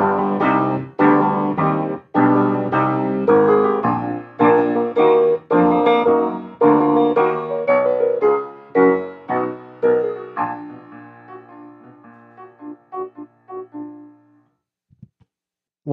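Orchestral brass with trombones playing a theme from a Beethoven symphony: a loud series of punchy, rhythmic chords that gradually thin and soften into quieter, sparser notes and fade toward silence.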